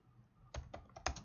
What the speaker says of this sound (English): I'm tired of typing.